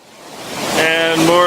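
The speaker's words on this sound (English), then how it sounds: "And more of the waterfall at First Geraldine Lake." Waterfall at First Geraldine Lake in Jasper National Park, a broad rushing roar of falling water that swells louder over a short moment, close and steady.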